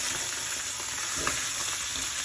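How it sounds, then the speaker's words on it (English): Brisket fat browning in a hot skillet gives a steady, close sizzle and crackle with a few brief spatters, alone with no voices. "Nice and hot skillet. And we want that fat to brown."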